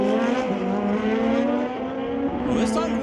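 A Harley-Davidson drag racing motorcycle launches hard down the track, its engine roaring loud and steady with a rising pitch throughout, blended with race commentary.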